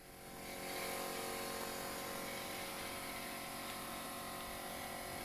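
Heard from outside the garage, an air compressor boxed in a soundproofing enclosure drones continuously, a steady muffled mechanical hum at moderate distance that swells in over the first second and then holds level.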